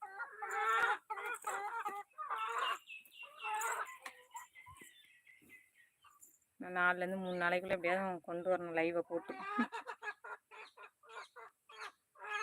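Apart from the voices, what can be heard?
chicken clucking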